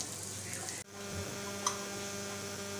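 Beet and potato cutlets fry in a little oil in a frying pan, making a soft steady sizzle over a low hum, briefly cut off near the start and then resuming.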